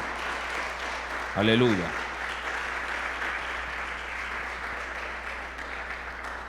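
A church congregation claps steadily through a sermon, a soft, even patter of many hands while a single voice calls out briefly near the start.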